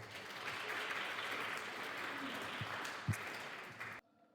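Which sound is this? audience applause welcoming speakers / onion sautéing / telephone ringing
audience applause welcoming speakers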